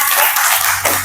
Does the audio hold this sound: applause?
yes